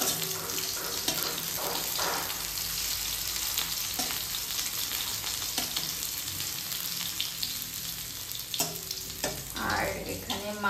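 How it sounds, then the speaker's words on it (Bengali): Potatoes fry in a pan in a home kitchen, giving a continuous soft sizzle with occasional clinks and splashy, running-water-like noises mixed in. "দেখো আলু ভাজা হচ্ছে।"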